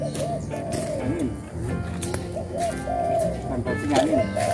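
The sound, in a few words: bird calling, heard while hunting with an air rifle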